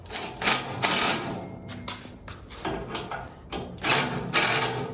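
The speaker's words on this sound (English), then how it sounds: "Gonna get the impact driver." Impact driver fastening 12 mm bolts on a Green Mountain Grills pellet smoker during assembly, with rapid rattling hammer bursts in short runs separated by pauses, close and fairly loud, no talking.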